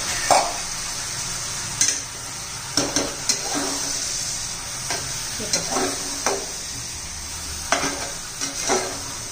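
Washed rice sautés in a pan for a winter field-bean rice dish, giving a steady soft sizzle broken by repeated scraping stirs of a spoon against the pan.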